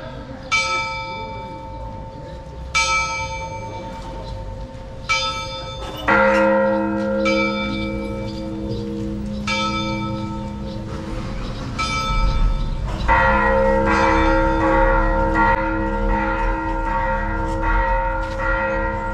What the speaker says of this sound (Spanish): Se tocan las campanas en una iglesia para la misa.